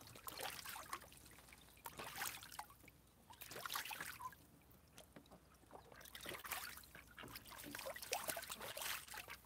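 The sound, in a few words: duck splashing water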